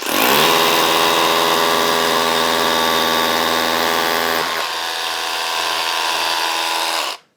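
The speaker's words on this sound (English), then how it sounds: "We'll re-drill it" A power drill whines steadily at high speed for several seconds while re-drilling a hole for a sleeve anchor, its pitch dropping slightly midway before it stops abruptly.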